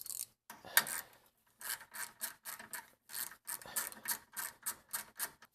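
A hand ratchet snugs the lower control arm bolts on a 2002-08 Toyota Camry in short, rapid clicking bursts separated by brief pauses, close up and with no speech.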